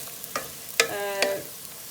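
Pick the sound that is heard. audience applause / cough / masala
masala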